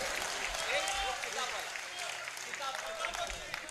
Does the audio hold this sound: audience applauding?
yes